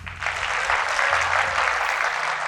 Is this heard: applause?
yes